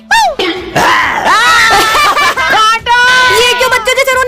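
A man imitates a crying baby with loud, wavering wails and sobbing cries that rise and fall in pitch, broken by short gaps and laughing snickers.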